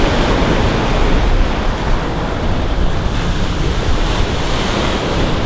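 Big ocean waves roll in at Fanning Island near a boat landing, a loud, continuous roar of surf mixed with heavy wind buffeting the microphone, with no talking.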